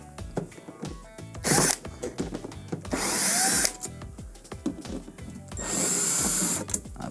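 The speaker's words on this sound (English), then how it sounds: "we are going to start by removing the 6 T20 screws along the sides here on the panel" A cordless power drill whirs in three short bursts while backing T20 screws out of the side of a Samsung dishwasher control panel, with clicks and handling noises between runs.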